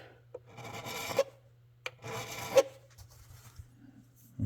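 A hand file rasps across a raised guitar fret wire in two short bursts of scraping strokes, close and fairly quiet, with small taps between them and a low steady hum underneath.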